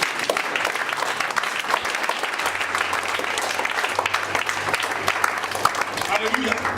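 Congregation at a church service applauding and cheering throughout, a dense steady wash of clapping with voices mixed in under a low sustained tone.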